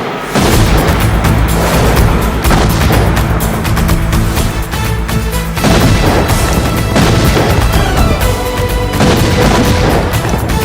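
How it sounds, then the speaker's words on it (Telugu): Bomb explosions in a Telugu action movie fight scene starring Balakrishna, heard as loud, dense booms and blasts that roll on continuously for the whole stretch without pause. "బాంబులు ఆపుండ్రీ."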